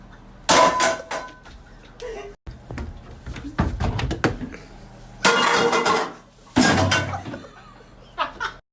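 Dishes clatter and clang in bursts while being washed, loud metallic and ceramic knocks with pauses between, alongside brief laughter and some talking.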